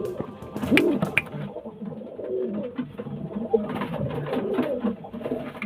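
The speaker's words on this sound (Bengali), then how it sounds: "এক পেয়ার পায়রা দেখুন এই যে ফুলশিরা" A pair of fullshira pigeons coo steadily and close by, soft layered calls repeating throughout with faint shuffling around them.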